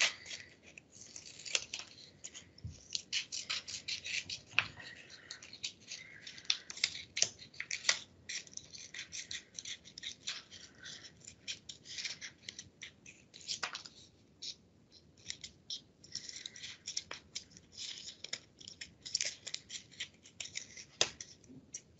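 Scissors snipping through paper to cut out snowflake shapes, a long run of close, crisp, irregular cuts and rustles with brief pauses between strokes.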